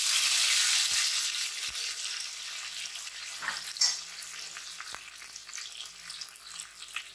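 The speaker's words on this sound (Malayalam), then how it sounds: "ഇതിലേക്ക് ഞാൻ ചേർത്ത് കൊടുക്കുന്നത് കറിവേപ്പിലയാണ്." Curry leaves go into hot oil for a coconut-based fish curry, setting off a bright, hissing sizzle that starts loud and slowly settles into a softer crackle, with a few light clinks and no talk.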